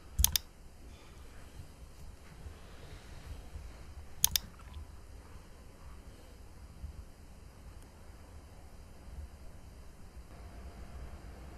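Two sharp mouse clicks while installing Wireshark on a Windows 10 computer, the first near the start and the second about four seconds later. A low hiss fills the quiet room between them.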